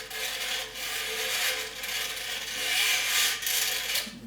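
A squash or tennis racket string drawn slowly through the frame, giving a steady, close, rough rasp like sandpaper that swells and eases over about four seconds, with no talking.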